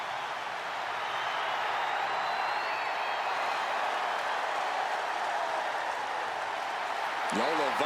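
An arena crowd roars and applauds steadily throughout an NXT wrestling entrance in WWE 2K25, a broad, constant wash of cheering with a brief rising effect near the end.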